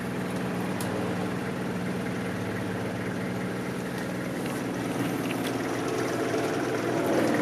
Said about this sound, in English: it has that very typical Nissan diesel clatter